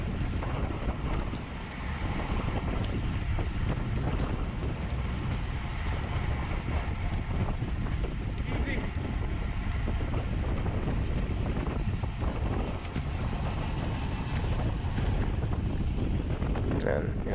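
Steady, heavy wind roar batters the microphone while a rider cycles into a headwind during a Masters 35+ circuit race. The noise is broadband and continuous, with faint background voices under it.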